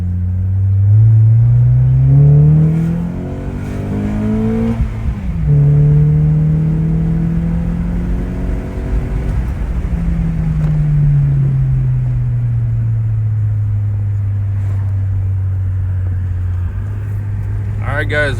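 A 2004–2008 Acura TSX with a K20 engine revs hard into VTEC after a solenoid fix, its loud, close engine note climbing sharply, dropping, then climbing and falling again several times.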